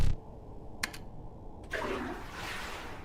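A toilet flush in the video game Urge: after a couple of short clicks, a loud, steady rush of water begins and keeps flowing to the end.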